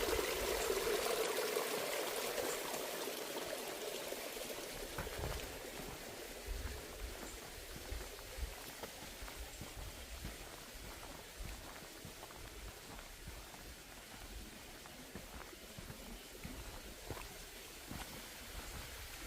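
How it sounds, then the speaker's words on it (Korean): Clean mountain stream water flows steadily down near a remote hilltop village, a continuous broad rushing trickle without a break, heard alone with no talking. "이렇게 오염되지 않은 물이 막 흘러내리잖아요"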